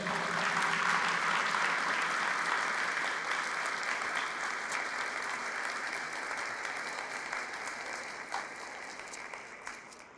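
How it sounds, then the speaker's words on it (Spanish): Congregation at a church service breaks into sustained applause, a dense loud clatter of many hands that gradually thins and fades toward the end. "Fuertes aplausos a Jesús."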